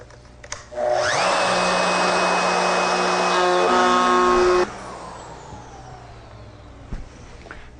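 Router with a bowl-and-tray bit spins up and cuts into a wooden bowl blank, a loud steady whine with rough cutting noise for about four seconds, then stops and quiet follows.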